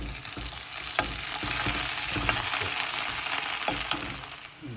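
Ginger garlic paste frying in a pan for a Tamil crab gravy, hissing with a steady bright sizzle while a spatula stirs it, scraping taps scattered through, close and continuous with no talk.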